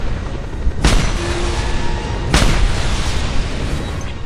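Explosions in the video game Just Cause 2, two loud booming blasts about a second and a half apart over a constant roar of in-game noise and gunfire.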